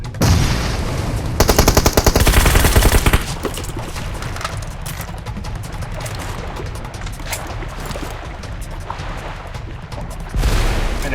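Rapid bursts of gunfire from the mobile shooter PUBG Mobile, a dense loud volley up front followed by a steady din of distant shots and battle noise, with another loud burst at the end.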